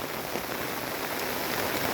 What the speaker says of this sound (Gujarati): વરસાદ પડે છે